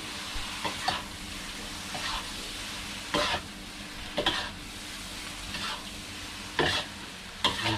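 Shrimp pad thai stir-fried in a wok, a steady sizzle broken by periodic loud scraping strokes of the spatula, repeating every second or two, close and without talk.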